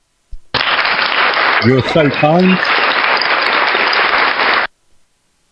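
A canned crowd-applause effect starts abruptly, holds as a dense, loud wash of clapping for about four seconds, then cuts off sharply. Someone speaks briefly over it.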